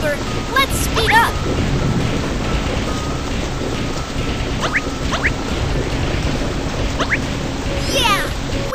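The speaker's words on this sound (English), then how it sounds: "The storm is even stronger!" Cartoon thunderstorm at sea, with steady rain hiss throughout and low rumbling thunder swells, under a busy layered mix with cartoon voices and chirpy effects, fairly loud.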